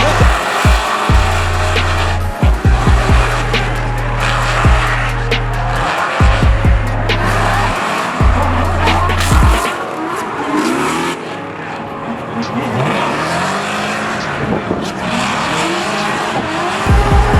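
Drift cars at a competition battle side by side, engines revving hard in repeated bursts, then long tires squealing and skidding loudly, close and continuous.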